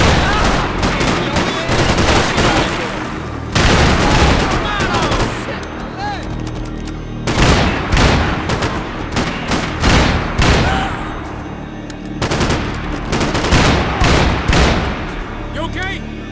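Heavy gunfire in the Max Payne video game, loud sustained bursts of automatic shots and blasts in dense waves with brief lulls, close and overwhelming, with shouted voices mixed in.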